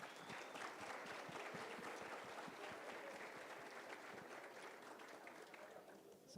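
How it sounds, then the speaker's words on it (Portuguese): A large audience gives a dense, steady round of applause for members of a Mastermind group being welcomed onstage, the clapping loud and close throughout and easing slightly near the end, with voices faintly mixed in. "Recebam com a salva de palmas dos membros do nosso Mastermind"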